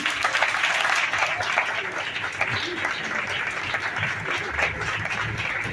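An audience applauds steadily throughout, a dense continuous patter of many hands at a public speech, with a voice faintly underneath.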